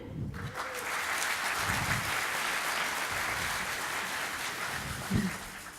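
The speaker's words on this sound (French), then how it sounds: "On peut l'applaudir." An audience at a French talk applauds as a volunteer comes up onto the stage, a sustained wash of many hands clapping with a few louder nearby knocks and faint voices underneath.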